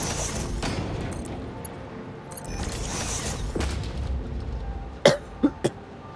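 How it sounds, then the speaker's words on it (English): A person coughs a few times in quick succession near the end, loud and close, after a stretch of steady factory-game machinery and rumbling noise from Satisfactory. "Sorry, a bit coughing today."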